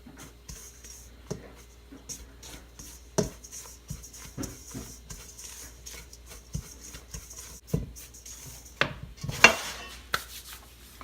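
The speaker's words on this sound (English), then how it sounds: "Now we get this all mixed up. Break up any lump, especially with the almond flour." Dry keto cornbread mix of almond flour and baking powder being stirred and broken up in a bowl, giving close, irregular scraping and tapping strokes with brief sharper knocks, mostly without speech.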